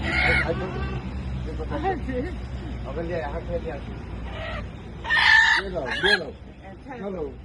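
Chickens cluck and call intermittently amid background chatter, with a couple of sharper, louder squawks toward the end.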